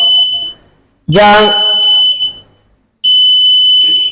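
A loud electronic alarm buzzer sounds in a mosque prayer room, a piercing high steady tone in two long bursts separated by a short gap, close and sharp, with a voice speaking briefly over it.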